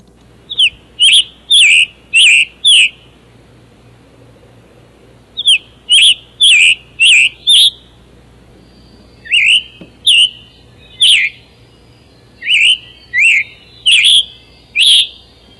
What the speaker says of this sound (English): the scarlet tanager's call has been likened to a robin with a sore throat